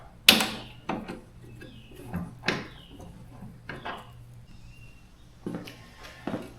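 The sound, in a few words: removing Jeep Wrangler JL cowl bolts with toolkit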